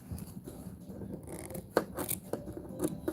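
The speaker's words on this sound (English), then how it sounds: "we are going to cut a little hole here" Scissors snip a small hole in a projector screen, giving a few close, crisp cuts and faint scraping amid quiet handling noise, with no talking.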